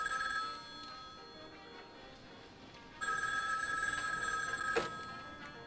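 A telephone bell rings in bursts, first a short ring, a pause, then a longer louder electronic trill of several seconds, heard fairly close in an otherwise quiet room.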